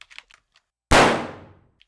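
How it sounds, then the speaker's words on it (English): A single layered gunshot effect meant as a .38 caliber fired indoors bursts out loud and close, then its reverberant tail fades over about a second. Faint clicks and taps come before it. "That's like an indoor. I think that's a 38. Yeah, it's a 38 caliber."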